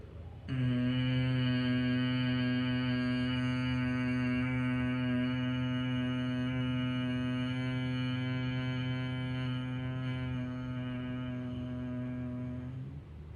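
A steady, droning bee-like hum from a person doing bhramari breathing holds for about twelve seconds, even and fairly quiet, with no talking.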